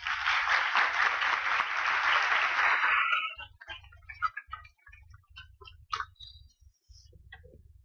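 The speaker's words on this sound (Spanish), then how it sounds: "Recibamos, por favor, con un fuerte aplauso a Juan Carlos Hidalgo" Audience applause welcoming a speaker at a public policy and foreign trade event, a burst of clapping that stops after about three seconds, leaving sparse scattered claps, taps and clicks.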